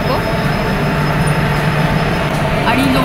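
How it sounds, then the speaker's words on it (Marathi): A passenger train on the Mumbai to Pune route pulls away, a steady loud rumble of wheels and carriage with a faint squeal and a constant hum. "ही आहे आपली ट्रेन जी आता स्टार्ट झाली आहे"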